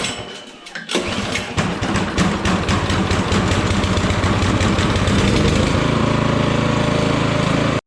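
A Toro 724 QXE snowblower's engine catches after a brief pull-start rattle, then runs loud and steady at close range with no talk.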